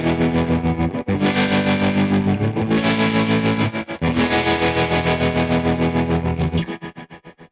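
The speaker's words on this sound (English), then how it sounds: "Pair that with the reverb maxed out." Electric guitar played through a Ratajczyk Cream Reverb amp with the reverb turned all the way up and tremolo available, giving loud, sustained distorted chords that wash into a heavy reverb tail. The chords are interrupted by two brief gaps and fade at the end.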